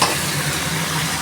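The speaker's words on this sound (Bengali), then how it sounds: "সেদ্ধ করা চাউমিনটা এর মধ্যে দিয়ে নাড়িয়ে নেব ভালো করে।" Boiled chow mein being stirred in a frying pan gives a steady, close hiss of sizzling with soft tossing and scraping over just over a second, with no voices.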